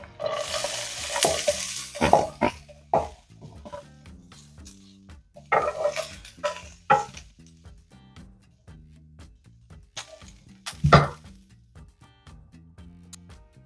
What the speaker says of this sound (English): in our skillet, we are going to add a little bit of avocado oil. Now add in our veggies.